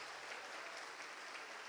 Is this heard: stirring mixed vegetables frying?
no